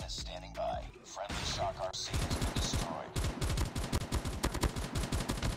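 S36 rifle in Call of Duty Mobile tap-firing, a rapid train of sharp repeated shots after a few scattered bursts, loud and close.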